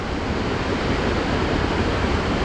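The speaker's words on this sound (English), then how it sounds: "I don't think I've ever seen quite so much water flooding down a small mountain valley" Floodwater pours down a small mountain valley beside a rural quinta after heavy rain, a dense, unbroken rushing roar that stays loud and constant from start to finish.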